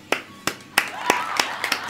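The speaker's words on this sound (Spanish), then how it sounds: "Un aplauso para Maribel" A few people clapping sparsely for Maribel during a spider-infestation video game session, seven or so distinct, spaced claps close to the microphone.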